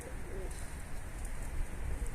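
Pigeons softly cooing at a coop, faint and somewhat distant under a steady wash of outdoor background noise with possible rain patter.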